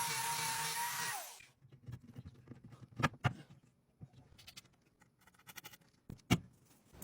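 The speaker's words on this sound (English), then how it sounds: "We do have to drill a couple holes though." A power drill whirs loudly for about a second, then stops. Scattered knocks, taps and handling clatter follow as work continues on a thrifted wooden bar and its wooden handles.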